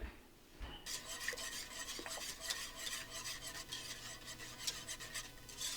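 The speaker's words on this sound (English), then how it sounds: "I'm gonna find me a whisk. I'm gonna whisk that up." A whisk beats a blueberry jelly mixture in a bowl, a rapid, faint, continuous run of metallic scraping and clicking strokes that starts after a short pause.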